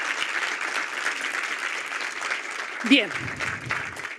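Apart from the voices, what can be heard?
audience applause at a presentation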